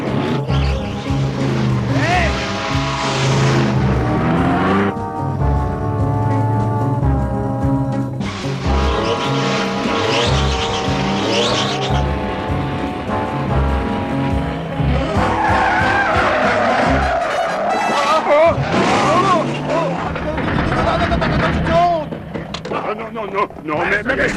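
A car accelerates hard during a chase, engine roaring with repeated tire squeals and skids, loud and continuous beneath shouted voices and music.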